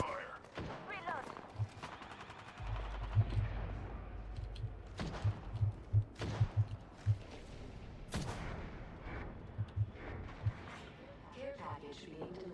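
Rapid bursts of automatic gunfire from the Apex Legends battle royale shooter, sharp and fairly close, rattling in quick volleys amid game effects, with voices talking over it.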